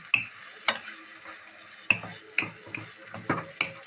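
Liver and gizzards sauté in a pan as a spoon stirs them, sending sharp scraping clacks at uneven intervals over a soft, steady sizzle, with no talking.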